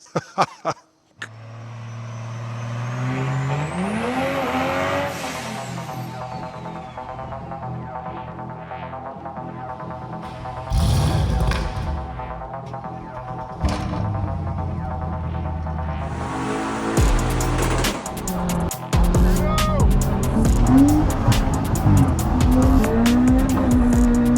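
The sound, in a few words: BMW M140i engine running on a dyno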